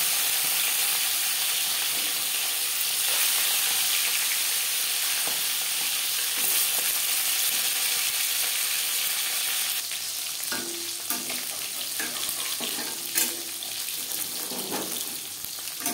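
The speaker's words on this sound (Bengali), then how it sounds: "4 চামচ রিফাইন্ড অয়েল গরম করে নিয়েছি। দিয়ে দেবো লবণ হলুদ মেখে রাখা মাছ।" Fish coated with salt and turmeric hits hot refined oil in a pan, giving a continuous loud sizzle that turns busier and more spattering partway through.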